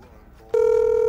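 A telephone begins ringing abruptly after a short quiet lead-in, a single steady electronic ring tone sounding loud and clear.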